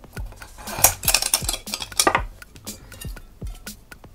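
Metal parts of a Snow Peak Yaen Cooker 1000 being fitted onto its frying pan, a close series of sharp clinks, taps and scrapes of metal on metal in an irregular rhythm, with no talk.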